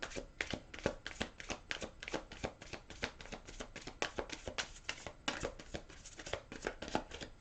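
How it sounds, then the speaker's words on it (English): A deck of tarot cards being shuffled up close, a fast run of crisp riffling flicks and soft slaps in a steady rhythm, fairly quiet. "I'm going to shuffle these"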